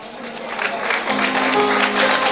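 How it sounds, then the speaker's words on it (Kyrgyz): Wedding guests at a celebration applaud together, a steady wash of clapping that builds slightly and holds, with a voice faintly over it. "2 жашка бир кол чаап коюңуздар."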